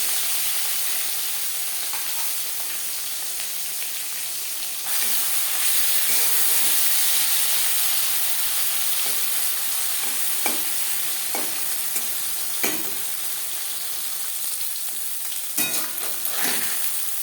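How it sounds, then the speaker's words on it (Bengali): Marinated puti fish drop into three spoons of hot mustard oil, bursting into a loud, hissing sizzle that swells partway through and stays steady, with a few sharp clicks and spatters near the end. "এবার দিয়ে দেব ম্যারিনেট করে রাখা মাছ।"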